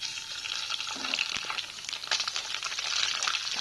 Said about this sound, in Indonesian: nasi goreng ini udah aku panasi sih tapi mau tak masak nasi goreng